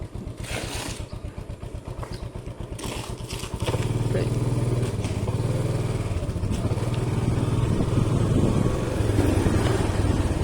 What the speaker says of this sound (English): Let me just turn my motorcycle around.